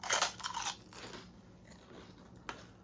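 Crisp fuchka shells crunch and crackle between the teeth during a spicy pani puri eating challenge, a few sharp close bites in the first second followed by fainter chewing, with no talk.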